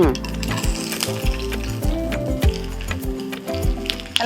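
Mustard seeds and sliced shallots frying in hot oil in a pan for a Kerala fish curry, a steady loud sizzle with mustard seeds popping and the spoon clattering against the pan as it is stirred.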